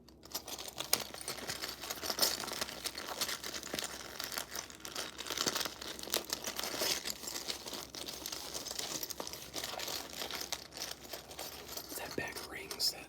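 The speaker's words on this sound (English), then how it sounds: "That bag of rings that we all enjoy so much" Fast, aggressive ASMR handling of a bag of rings: close, dense crinkling and rustling with small jingles, continuous throughout, with soft whispering in places.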